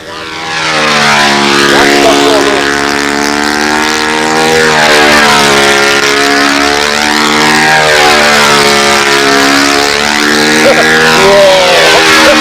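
A model airplane with a propeller flies past, its loud, steady buzzing drone rising and falling in pitch as it banks and maneuvers close to the listener throughout.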